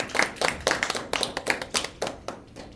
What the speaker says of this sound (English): So let's give it again a good round of applause.